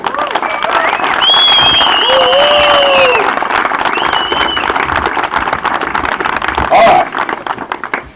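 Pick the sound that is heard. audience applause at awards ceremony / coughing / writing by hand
audience applause at awards ceremony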